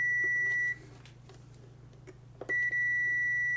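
A multimeter sounds a continuous continuity tone while testing a coffee maker's heating element, a steady beep that cuts off, pauses for about two seconds over faint handling noise, then sounds again.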